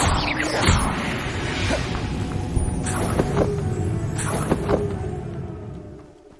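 Bombarda blasting spell impacts in Hogwarts Legacy, a dense rumbling game soundscape with repeated whooshing swishes and sharp crashing hits near 3 and 4.5 seconds, fading out at the end.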